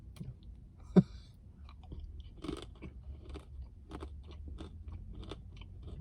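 Crunchy banana chips being chewed close up, a sharp bite followed by a run of irregular crisp crunches, with no talk.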